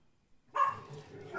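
A dog barks and whines somewhat distantly in a noisy room, a short yelping burst rising out of background sound.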